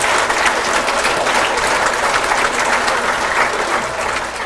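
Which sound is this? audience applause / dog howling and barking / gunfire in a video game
audience applause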